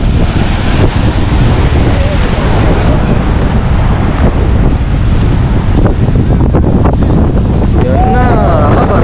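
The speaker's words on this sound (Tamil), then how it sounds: "என்ன அலை பாருங்க, செம்மையா அடிச்சுட்டுருங்க அலை அந்த இடத்துல." Heavy sea waves surge and crash continuously at the old Dhanushkodi harbour, loud and close, smothered in strong wind rumble on the microphone throughout.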